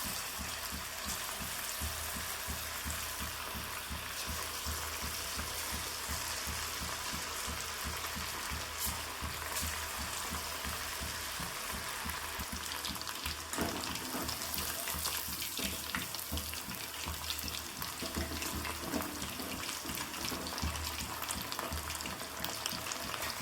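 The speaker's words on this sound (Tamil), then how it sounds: "சிக்கனை ஒரு தடவை நல்லா கலக்கி விட்டுட்டு அப்புறமா எண்ணெயில் போடுங்க." Pieces of chicken 65 deep-fry in hot oil with a continuous close sizzle and crackle that runs unbroken throughout. No one speaks.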